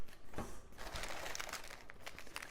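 Crinkling of thin plastic sushi-delivery sachets, a continuous rustle with sharper crackles near the start, fairly close and without any talking.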